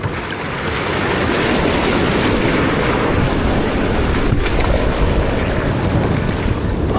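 Kayak crossing open sea off the Philippines, with a steady, loud wash of waves and water rushing past the hull, mixed with wind buffeting the microphone throughout, no voices.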